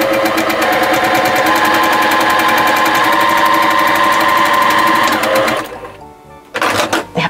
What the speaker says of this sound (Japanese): ミシンで1センチの縫い代で縫います